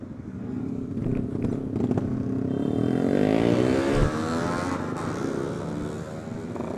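Motorcycles accelerate hard along an airport road on a Sunday-morning group ride, engines rising in pitch as they pass close by, loud and sustained with clattering wind noise.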